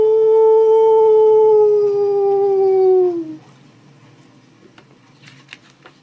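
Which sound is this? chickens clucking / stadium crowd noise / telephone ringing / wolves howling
wolves howling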